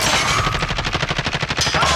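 Rapid automatic gunfire in a Warzone battle royale firefight, a dense stream of loud, close shots rattling steadily for about two seconds with no talking.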